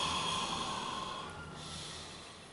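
A deep breath let out during a guided breathing exercise, a long steady exhale with breathy hiss and a snort-like edge lasting a couple of seconds, close and soft with no talk.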